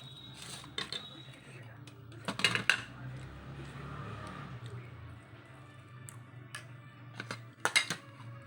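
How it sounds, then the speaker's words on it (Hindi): A fork and knife clink against a plate while food is cut, several sharp metallic taps in short clusters over a quiet background, with talk nearby. "फॉर्क यहाँ पर लगाइए, नाइफ से काटिए"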